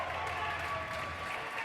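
A crowd at a racquetball match applauds a shot, a brief burst of scattered clapping heard at a distance under a commentator's voice.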